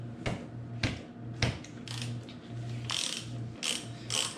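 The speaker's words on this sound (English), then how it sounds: "I'm gonna start by loosening this nut," A ratchet wrench clicks repeatedly while loosening a size 14 nut on a motorcycle kickstand, with bursts of close, crisp pawl ratcheting separated by short pauses.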